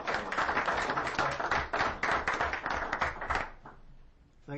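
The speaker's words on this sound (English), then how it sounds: "So we just wanted to give you a round of applause and say thank you very much for everything you've done." A round of applause breaks out at a town board of selectmen meeting: many hands clap in a dense, steady patter for several seconds, then thin out and fade near the end.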